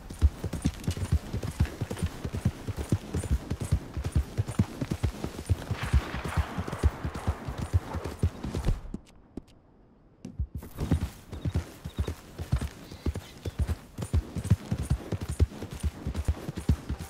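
A horse gallops in Red Dead Redemption 2 with rapid, rhythmic hoofbeats close by and a neigh near the start. The pounding drops out for about two seconds midway, then resumes at full pace.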